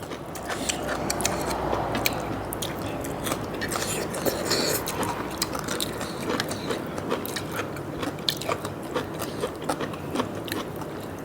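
Crunchy chewing of pork ear cartilage, steady close bites and grinding crunches repeating throughout a spicy Thai papaya-salad meal, with no talking.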